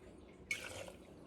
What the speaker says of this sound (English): I'm just going to use that to put my 2 ounces of bourbon in.